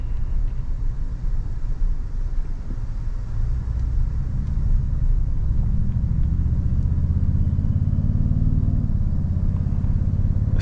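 Amplified engine of a 2024 Toyota Tundra TRD Pro heard from inside the cab while driving, a steady low rumbling drone that swells and deepens partway through, continuous and fairly loud with no talk.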